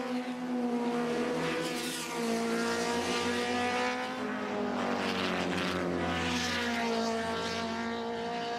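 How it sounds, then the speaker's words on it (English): A JPS BMW M3 touring race car at Mount Panorama in the 1987 James Hardie 1000 climbs toward a cutting, its engine a loud, sustained high-revving howl with rising and falling pitch across several gear changes. "The 44 JPS car heading up to BP cutting again."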